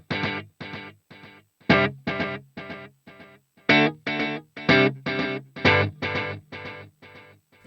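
Guitar played through a POD Go simple delay set to quarter feedback and a 75 mix: a run of distorted picked notes and chords in steady rhythm, each attack trailed by short echoing repeats, loud and close with no voices.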